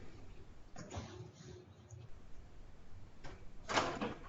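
A door being locked in a room, a couple of muffled knocks and a sharper click or rattle near the end, moderately loud against light background noise.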